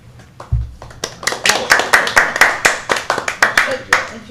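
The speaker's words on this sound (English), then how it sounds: "We have digital claps as well." Recorded clapping plays back through speakers at a livestreamed talk: a brisk run of sharp, evenly spaced claps, loud and close, with a low thump at the start.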